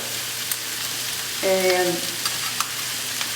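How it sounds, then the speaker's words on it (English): Jackfruit sizzles softly in a pan as it is stirred, with a steady frying hiss, a brief scrape near the middle and a single short spoken word. "stir it up a little bit like this."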